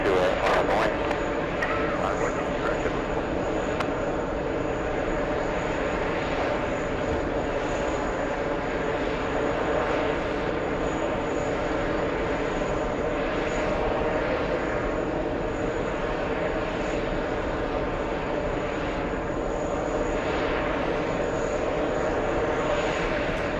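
A JetBlue airliner's jet engines roar steadily and loudly at Kennedy airport as it pushes back from the gate, a continuous broad rumble lasting the whole span, with talk mixed in.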